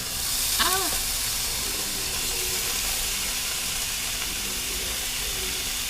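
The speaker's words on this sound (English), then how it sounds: "if you hear that sizzling, then you're doing it right." Steady sizzling and hissing of bacon frying in a pan fills the scene, with a brief whistle-like tone early and faint background sounds.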